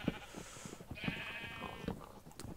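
Sheep bleating in the video game Minecraft: several short, nasal bleats repeat at a fairly steady pace over a quiet background, with no talking.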